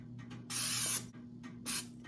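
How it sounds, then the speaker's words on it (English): Two short hissing bursts of aerosol non-stick cooking spray into a pan, the first longer than the second, with faint mechanical clicks around them. "I'm gonna spray the pan lightly with a non-stick cooking spray"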